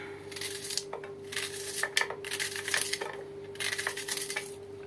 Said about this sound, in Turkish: Şimdi soğanları başlıyorum yavaş yavaş doğramaya.